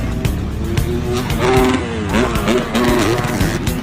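Motocross bikes in a heat race roar past with rising and falling engine revs, loud and layered, while a commentator talks over them.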